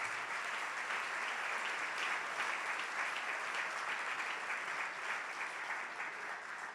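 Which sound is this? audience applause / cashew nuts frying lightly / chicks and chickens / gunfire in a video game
audience applause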